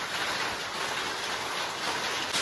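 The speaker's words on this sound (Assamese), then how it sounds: "এইফালে শিল বৰষুণ দি আছে চব" Heavy rain mixed with hail pours down steadily during a storm, a dense, close, continuous wash of patter with no gaps from start to finish.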